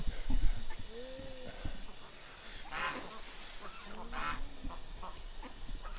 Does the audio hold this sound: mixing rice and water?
no